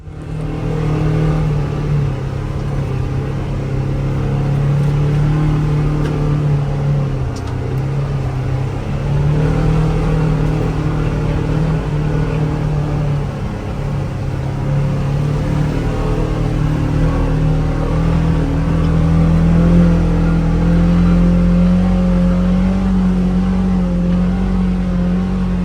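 Polaris Xpedition UTV from 2024 with its engine held at high revs in low gear, a loud sustained drone with steady tone, heard up close and alone.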